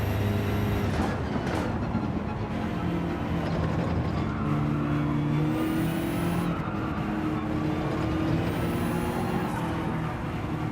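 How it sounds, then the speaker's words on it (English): Race car in Gran Turismo 7 pushed hard, a dense continuous engine roar with shifting pitch and a couple of high squealing tire sounds, loud and unbroken throughout, no talk. "I am now overdriving this car."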